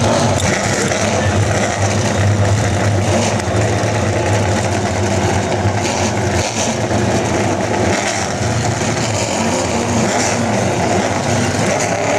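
A race car engine drones and revs steadily at a 2008 Apple Cup trophy dash, a loud continuous roar with slight surges in pitch and no break in the noise.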